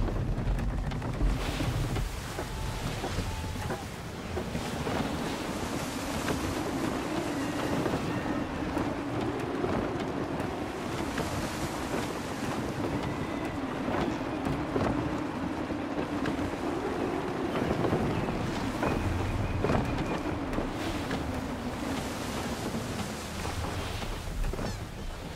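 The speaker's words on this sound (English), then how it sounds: "Wind looks to be shifting. Stay alert, Connor. Gusty winds can be difficult to manage." Gusty wind roars steadily while a sailing ship cuts through open water in Assassin's Creed 3, with a low churning rumble of hull and sea running unbroken throughout.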